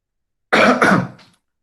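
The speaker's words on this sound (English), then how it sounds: "I have a bad cough" A single rough cough close to the microphone, short and throaty like clearing the throat, with silence before and after.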